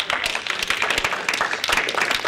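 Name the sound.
applause at a city board meeting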